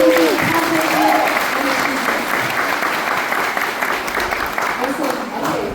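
A crowd at a cultural center's 62nd-anniversary celebration gives sustained, full applause, a dense continuous wash of clapping that holds steady throughout with faint voices mixed in.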